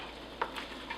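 Salsa ingredients with tomatoes are stirred in a canning pot, soft low scraping and a couple of faint clinks against the pot, quiet and close.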